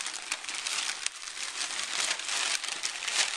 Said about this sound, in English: we're going to crumple some paper first